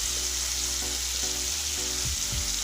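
Spices fry in a pan as the base for a cauliflower curry, a dense, steady close sizzle that holds evenly throughout, with faint stirring and music underneath.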